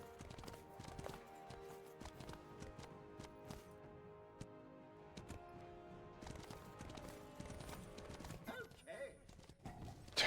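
Rapid hoofbeats of a horse galloping in a video game, a steady clip-clop rhythm running through the whole stretch amid busy game sounds and music, with a brief burst of effects near the end.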